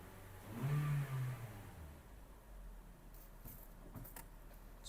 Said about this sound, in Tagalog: So rev tayo ulit ng 2000 RPM.